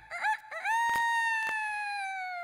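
A rooster crows in a single long cock-a-doodle-doo, loud and clear, rising then holding a drawn-out tone, with a couple of sharp knocks over it and no talk.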